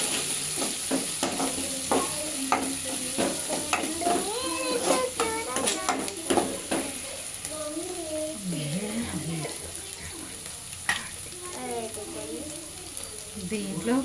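Chicken curry ingredients with turmeric and ginger sizzle in a pan as they are stirred, Telangana style, a continuous fry hiss with scraping spoon strokes while someone talks over it.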